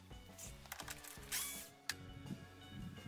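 Ratcheting and clicking of a wrench loosening a 10mm bolt on a Mercedes Vito W639 van headlamp, close and fairly quiet, with short bursts of mechanical clicks and a few sharper knocks.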